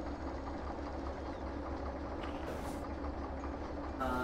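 Train Simulator in VR, with a steady rumbling train running along rails: a continuous low drone and broadband rolling noise throughout, with brief hissing bursts near the middle and end.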